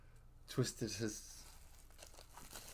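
A small plastic bag gives sharp, close crinkles in a quick burst of three or four rustles, then fades to lighter handling noise, with a voice talking over it.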